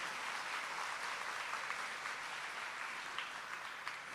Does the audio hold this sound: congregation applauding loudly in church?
yes